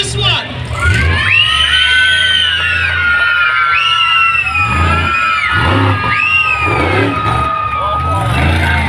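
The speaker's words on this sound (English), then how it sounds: "Let's start screaming for this one." Crowd of children screaming and cheering at an outdoor monster truck show at the Mackay Show, with loud high shrieks and whoops rising in waves over a steady engine rumble, and a voice speaking through it.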